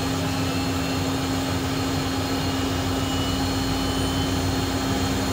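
A Cessna Citation 501SP jet engine starts up with a steady, dense roar and a constant high whine, loud and close throughout with no pause.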